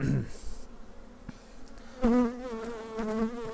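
Honey bees buzz at a hive in April, a faint hum opening into a closer, louder buzzing drone in the second half, with no talk.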